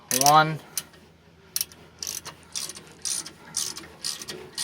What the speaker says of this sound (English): it's going to press on those brake pads, pressing on the rotor. You can hear it creak